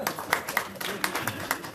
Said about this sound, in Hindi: इसलिए अगर यहाँ हमारे मराठी भाई हैं तो उनके लिए जोरदार तालियां बजेगी